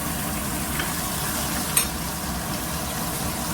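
A steak sears in a pan over high heat with a steady, dense sizzle that barely changes, broken by one small sharp click midway.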